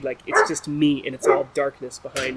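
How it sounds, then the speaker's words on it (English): Dogs bark and yip in the background while a person speaks close and clearly over them, the short canine calls mixing with the voice throughout. "And then you can hear the dogs in the background."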